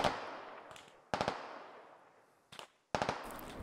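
Bursts of gunfire from the video game Squad, several sharp reports each trailing off in a long fading echo, spaced irregularly and heard alone with no talk.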